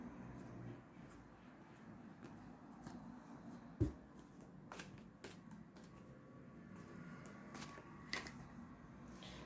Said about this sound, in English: Concentrate on the deck while I'm shuffling.